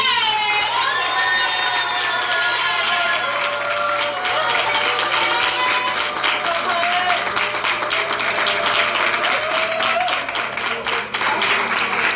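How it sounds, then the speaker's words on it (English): Audience at the Utah Arts Festival poetry performance clapping and cheering for a poet, loud continuous applause with whoops and high shouts filling the space. "Keep on clapping all the way up to the stage."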